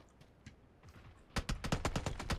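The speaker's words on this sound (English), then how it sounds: "That guy's shooting his AK really fast." AK rifle in PUBG fired in a rapid burst, about ten sharp shots in quick rhythm after a quieter stretch of faint distant pops.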